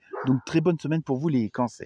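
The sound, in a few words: dog barking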